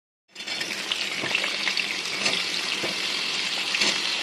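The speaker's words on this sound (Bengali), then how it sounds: "এরপরে দিয়ে দিলাম সর্ষের তেলে কালো জিরে। এবার চটপটে আওয়াজটা শুনে নেওয়া যাক।" Black cumin seeds crackle in hot Fortune mustard oil, a steady close sizzle with scattered sharp pops that starts abruptly and runs without pause, no voices.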